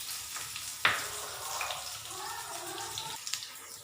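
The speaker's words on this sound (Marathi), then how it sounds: "जिरं झाल्या मिरची टाकते, मिरची चिरलेली आहे।" Chopped green chilies dropped into hot oil with cumin, a close hissing sizzle that flares with a sharp splash at the start, then settles into a bubbling crackle.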